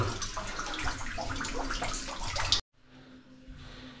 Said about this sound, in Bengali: তবে ভেতরে প্রচুর জল, আমি আপনাদের দেখালাম।